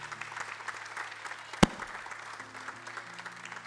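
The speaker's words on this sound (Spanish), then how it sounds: "Vamos a darle un aplauso a Cristo." Church congregation applauding during a Spanish-language worship service, a steady wash of clapping with one sharp knock partway through.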